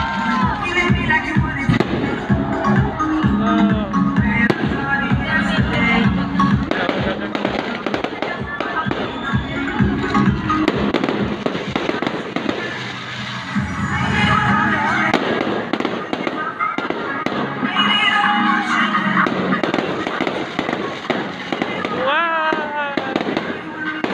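Fireworks burst continuously in a dense, crackling barrage, loud and close, with firecracker pops layered over a cheering crowd and people shouting excitedly throughout.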